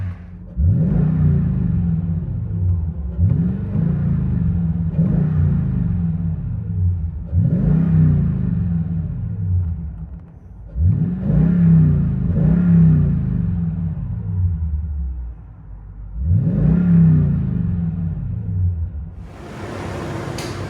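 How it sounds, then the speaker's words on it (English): Throttle blips from a 2016 Toyota Tundra 5.7L V8 with a Magnaflow dual-in, single-out exhaust and dual tips, heard from inside the cab: five or six deep, loud revs rising and falling over a steady low idle rumble. "Toyota Tundra with MAGNAFLOW dual in, single out, and dual tip out the back."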